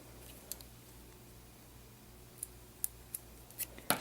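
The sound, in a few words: scissors cutting while sewing handmade fabric flowers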